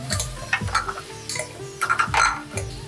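Carrots, French beans and green peas being stirred for street-style pav bhaji, with a run of close, uneven scraping and clattering strokes against the pan and no voices.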